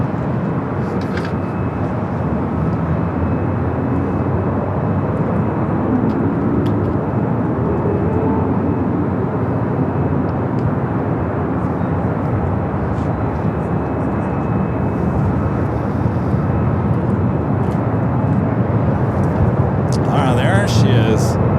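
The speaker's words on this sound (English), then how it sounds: "Next arrival on the north side, Southwest Airlines flight 2714, coming in from Austin, Texas" A Southwest Airlines Boeing 737 MAX 8 arrives at LAX from Austin, its constant, loud jet rumble holding steady throughout while a voice is heard alongside it.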